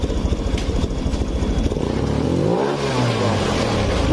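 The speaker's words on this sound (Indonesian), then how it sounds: "malah dia meraung mesinnya nih" A Honda Beat Pop scooter engine drones loudly up close, then swells into a rising, roaring whine as the throttle is eased back, a steady and unbroken mechanical sound.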